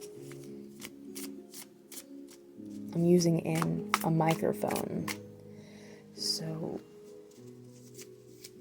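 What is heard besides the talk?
shuffling cards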